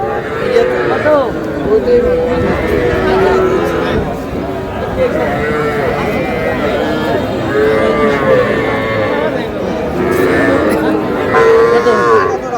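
Young bulls and calves moo repeatedly at a busy cattle market in Chandpur, their calls loud and overlapping over steady crowd chatter and bargaining voices throughout.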